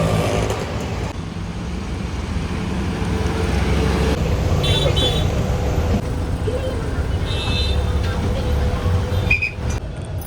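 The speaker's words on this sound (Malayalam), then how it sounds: "അയ്യോ, ഇപ്പോൾ ഒരു ബസ് അങ്ങ് പോയി." A bus pulls away from a roadside bus stop amid passing road traffic, a steady engine rumble and road noise close by that swells midway, with a brief horn-like tone near the end.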